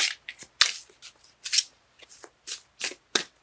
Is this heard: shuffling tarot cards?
yes